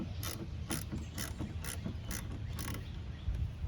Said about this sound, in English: Just ratchet it down until it pops off.